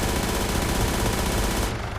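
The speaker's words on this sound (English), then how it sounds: "I think the miniguns sound pretty lame" Continuous, loud rapid-fire helicopter minigun burst in ARMA 3, a dense unbroken roar of gunfire that cuts off abruptly near the end.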